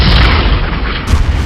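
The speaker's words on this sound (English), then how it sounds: "Pay no attention to the peaceful explosions all around me." Explosions going off outdoors in a big-city street during demonstrations, a dense rumbling boom that rolls on continuously and loudly with a sharper burst near the end, no voices present.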